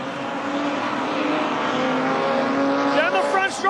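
Production sedans race down the front straight at Carina Speedway, a loud sustained engine roar with rising pitch as cars pass, a commentator talking over it.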